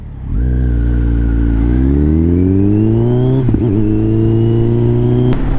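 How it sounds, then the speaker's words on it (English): A Kawasaki Z900 motorcycle with an aftermarket exhaust revs steadily upward in a long, loud pull, its deep throaty exhaust note climbing in pitch before easing off. "One thing I definitely like about this bike is the sound."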